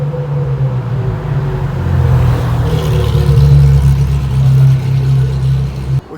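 A Maserati MC12 sports car engine drones loud and close in a Monaco parking garage, its pitch rising as it revs and pulls away before cutting off abruptly at the end.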